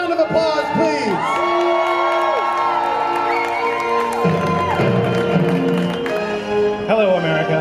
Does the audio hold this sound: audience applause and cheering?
yes